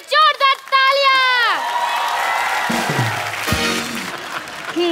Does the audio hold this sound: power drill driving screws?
no